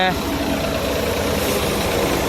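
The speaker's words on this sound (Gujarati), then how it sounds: "આપણું ટ્રેક્ટર પહોંચી ગયા" A heavy tractor engine idles nearby in a field during the rice paddy harvest, with a steady low rumble and knocking throb, people talking faintly over it.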